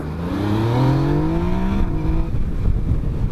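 Yamaha Niken three-wheeled motorcycle, powered by the MT-09 engine, revving up while riding, its pitch climbing steadily through a gear before dropping off into rougher wind and road noise.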